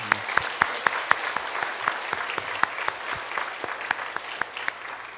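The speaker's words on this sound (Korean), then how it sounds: "우리 하나님 앞에 영광의 박수 한번 올렸으면 좋겠습니다" A church congregation applauds after a choir, a dense run of sharp, steady claps from many hands filling the room at fairly loud level for several seconds.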